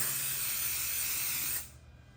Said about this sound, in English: I'm going to spray some adhesive here